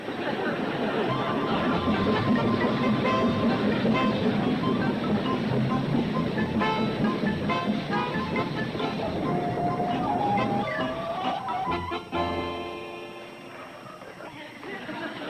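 A train pulling into a station, a sustained rumbling rolling clatter with tonal squeals, easing and fading toward the end as it slows, heard beneath voices talking.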